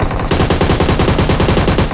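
An automatic weapon fires in PUBG Mobile. A loud, rapid burst of shots runs continuously for about two seconds, close and dense, with no speech over it.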